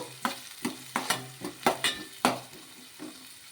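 A spoon clatters rhythmically against a pan while coconut fry is stirred, about eight sharp scraping knocks over a soft sizzle, close and fairly quiet.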